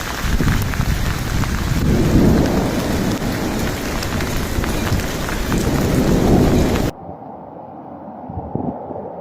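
Heavy rain pours down with rolling thunder and gusty wind during Storm Claudia in Spain, a loud dense roar that drops abruptly to a quieter steady downpour near the end.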